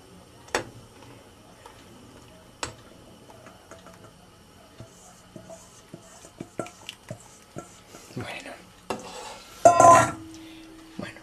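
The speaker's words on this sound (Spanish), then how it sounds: "Ahora vamos a ir añadiendo el preparado aquí dentro poco a poco y vamos a ir dándole vueltas." Crema catalana mixture is stirred in a pot on the stove, giving sparse, irregular clicks and taps of a utensil against the pot that grow busier toward the end and finish in a louder scraping clatter, close and fairly quiet.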